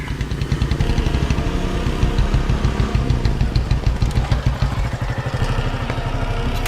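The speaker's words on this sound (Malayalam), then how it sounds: "ചേട്ടാ ബൈക്കിന്റെ സൗണ്ട് കേൾക്കുന്നുണ്ട്" A motorcycle engine runs loud and close with a steady, throbbing putter and rattling clatter throughout.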